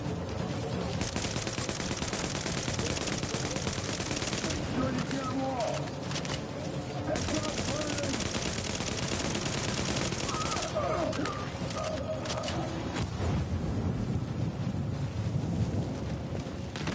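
Gunfire in the video game The Division: dense, continuous bursts of shooting and wind-like noise fill the clip, with voices talking over the din throughout.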